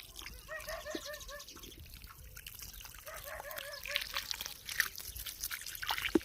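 Rinse water draining through cocopeat during repeated washing: a faint, quiet trickle and drip running throughout, with soft birdlike chirps in the background.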